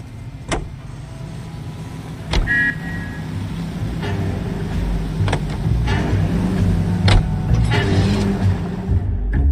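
A car drives through the streets in the video game L.A. Noire, its engine a steady low rumble that builds slightly, broken by several sharp clicks and knocks and a brief tone.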